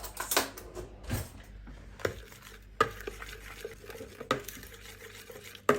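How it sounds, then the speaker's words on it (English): Pulled pork ingredients being mixed by hand in a bowl, with irregular scraping and clinking strokes of a utensil against the dish, close and moderately loud, with no talking. "once you've got all your main ingredients into your bowl, it's time to give them a mix."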